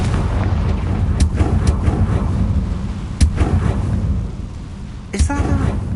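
A Confringo fire spell explodes in Hogwarts Legacy, with a few sharp bursts over a loud, rumbling, stormy background and a stronger blast near the end.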